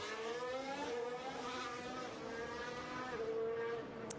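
A Formula 1 car does a practice start at the US Grand Prix, its high engine whine rising and shifting pitch as it pulls away, loud and close at first, then fading slightly.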